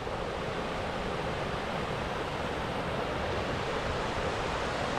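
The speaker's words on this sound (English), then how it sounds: "So here's just a shot of the water." Water rushing along the Middle Prong Trail, a steady broadband wash of flowing stream noise filling the whole stretch, fairly loud and constant with no voices.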